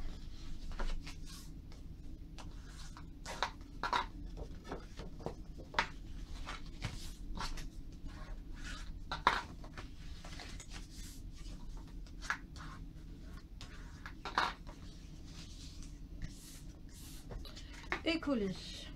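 Paper fold lines being scored for a handmade calendar, a series of short scraping strokes with irregular rhythm, close and fairly quiet, with a faint low hum beneath.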